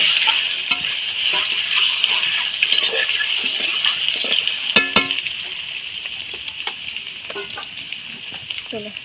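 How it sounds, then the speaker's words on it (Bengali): An egg fries in a pan of oil for egg biryani, producing a bubbling, watery sizzle that stays close and steady, with a few sharp clatters of utensil against the pan. "এইভাবে ডিমটাকে আমি ভেজে তুলে নেব"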